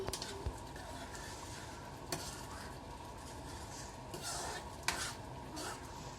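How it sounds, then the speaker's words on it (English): Dal makhani with kasuri methi stirred in a pot, a faint, steady bubbling simmer with a few soft scrapes and clinks of a spoon against the pot. "Give this a stir."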